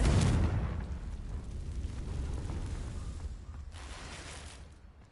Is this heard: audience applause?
no